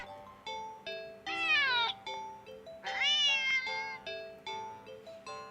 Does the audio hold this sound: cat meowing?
yes